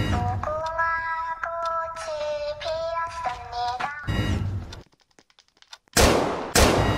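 Loud sharp gunshots ring out in a Squid Game video game, coming after a tonal in-game melody and a brief near-silent pause.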